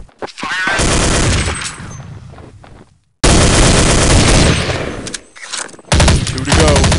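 Gunfire in Counter-Strike 1.6 on the csde_recon map, heard as loud, close, sustained automatic bursts with a brief gap between volleys and no talk over it.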